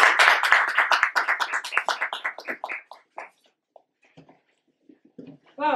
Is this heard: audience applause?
yes